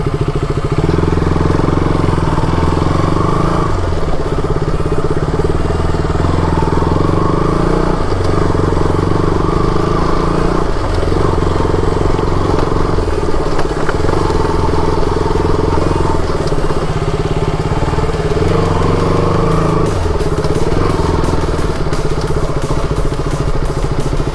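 A motorcycle (boda bike) engine runs steadily at a plantation, a loud, continuous idling drone with light mechanical clatter and occasional thuds throughout.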